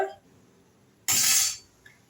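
Ponni rice chicken biryani stirred in a pressure cooker: one loud, close scraping burst of about half a second, with faint clinks before and after.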